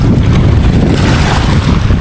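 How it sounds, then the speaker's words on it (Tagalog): Strong wind roars and buffets the microphone in a constant heavy rush on a fishing trip by the water, with water sloshing faintly beneath. "Ang lakas na ng hangin mga master."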